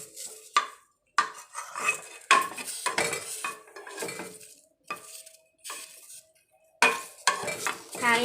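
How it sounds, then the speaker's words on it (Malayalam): Curry leaves being stirred and fried in a pan for Kerala-style dosa and idli chutney powder, with a utensil scraping and clinking against the pan in irregular bursts over a faint sizzle, no voices. "നമുക്കിനി ഇതിൻ്റെ കൂടെ കറിവേപ്പിലയും കൂടെ ഇളക്കിയിട്ട് കൊടുത്ത് നന്നായിട്ട് അതിൻ്റെ വെള്ളമൊക്കെ മാറി കിട്ടുന്നത് വരെ നല്ല ഫ്രൈ ആക്കി എടുക്കണം"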